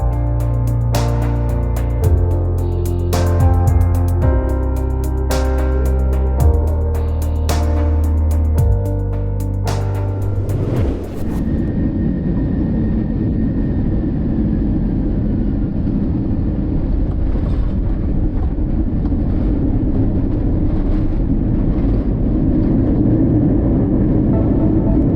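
An airliner descends on final approach into Bishkek, Kyrgyzstan, heard from inside as a steady, loud cabin rumble and engine drone that continues unbroken after music fades out.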